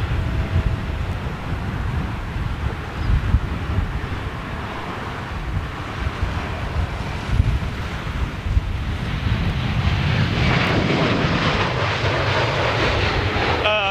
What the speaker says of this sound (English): Air Malta's retro livery 320.